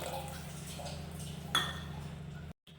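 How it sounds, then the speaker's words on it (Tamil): Water trickles into thick potato masala gravy in a pan, a faint steady pour with a small clink midway, close but quiet over a low background hum, cutting off abruptly near the end. "ரொம்ப கெட்டியாக இருக்குது, கொஞ்சம் தண்ணி விட்டுக்கலாம்"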